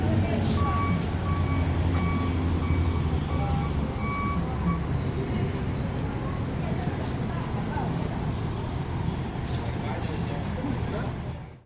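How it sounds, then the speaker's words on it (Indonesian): An Epastar intercity bus with an Adi Putro Jetbus HD2 Plus body and a Mercedes-Benz 1526 engine rolls into the Padang Panjang bus terminal, making a steady, loud low rumble with a faint tonal whine. "Masih dari arah Padang Pariaman masuk satu unit bus Epastar tujuan Kota Palembang."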